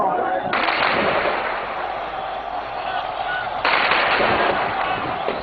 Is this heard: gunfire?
yes